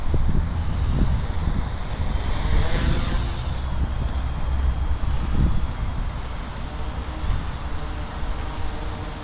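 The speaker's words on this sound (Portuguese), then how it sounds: "Tá ventando bastante hoje." Strong wind buffets the microphone in a steady, heavy roar with low rumbling gusts and a faint high whine from a distant F450 drone motor.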